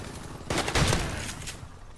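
A single loud blast from a shotgun in Call of Duty Modern Warfare Remastered, with a sharp attack and a short decaying tail, heard alone.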